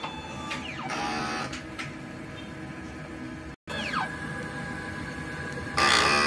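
A DTF printer runs a print head cleaning cycle, giving a steady mechanical whir with repeated rising and falling servo sweeps as the carriage moves, a brief pause, then a louder burst near the end.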